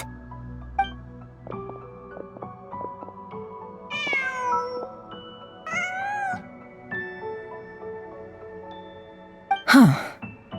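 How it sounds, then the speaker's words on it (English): In the Genshin Impact video game, a cat lets out a couple of clear, drawn-out meows over sustained game music, with a brief louder rustle near the end. "Just a cat."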